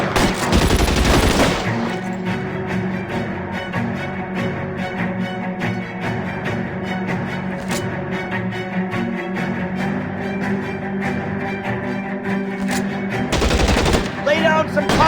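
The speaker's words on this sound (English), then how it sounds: "Lay down some covering fire!" Sustained automatic gunfire rattles through a shootout in L.A. Noire, dense rapid bursts running almost continuously for about fifteen seconds, loud and close, with heavier blasts near the start and end.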